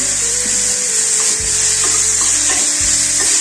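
Chopped onions with salt mixed and fried in a pan for paneer bhurji, a constant hissing sizzle with a few soft scraping stirs and dull thuds, close and fairly loud.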